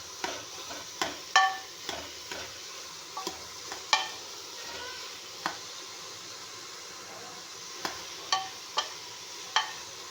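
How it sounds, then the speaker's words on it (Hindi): A spoon stirs chopped bottle gourd (lauki) frying in a pan, giving a faint soft sizzle with scattered scraping clicks at an uneven rhythm, close by and without talk. "घिया अपना फ्राई हो गया"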